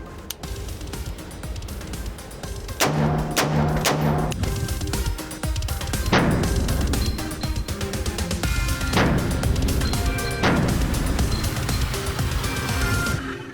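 POF-USA Revolution .308 rifle firing outdoors, several loud sharp shots spaced a few seconds apart over steady background noise, each crack followed by a short ringing decay.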